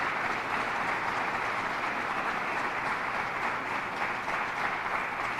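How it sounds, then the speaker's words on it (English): A room audience applauds during a governor's public safety briefing in Rochester, steady, even clapping from many hands that holds at a moderate, slightly distant level the whole time with no talking. "I want to applaud you."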